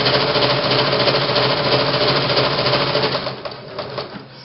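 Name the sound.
sewing machine stitching at longest stitch length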